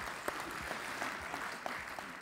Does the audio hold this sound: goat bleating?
no